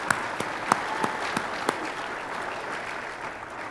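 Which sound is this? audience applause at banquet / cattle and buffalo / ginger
audience applause at banquet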